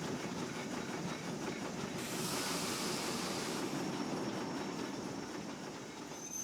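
A steam locomotive in a train simulator video game runs with continuous rumbling train noise and a faint, regular chuffing rhythm, steady and fairly loud throughout.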